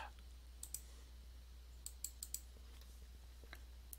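Several faint, sharp mouse clicks in a quiet room, scattered singly and in quick pairs over a low steady hum, with no talk.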